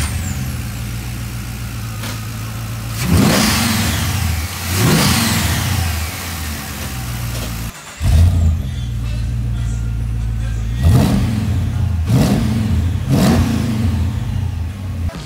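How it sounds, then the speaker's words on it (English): A Corvette LS3 V8 engine roars into life on its first start after installation and revs repeatedly, surging loud then settling to a rough idle between bursts. "Okay, the first fire up, what we do is we prime the engine."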